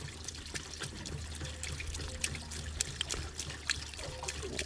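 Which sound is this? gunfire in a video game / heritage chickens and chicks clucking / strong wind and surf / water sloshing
water sloshing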